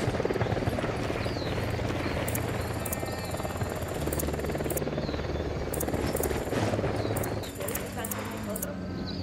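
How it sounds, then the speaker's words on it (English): A helicopter in the video game Ghost Recon Wildlands throbs steadily in the background, with game speech and other effects over it, moderately loud throughout. "We'll need that chopper."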